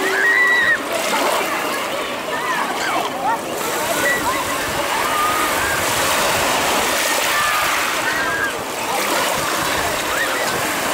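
Sea surf washing and splashing along the shore of a bay in Primorsky Krai, a continuous close wash of water with occasional faint bird calls above it.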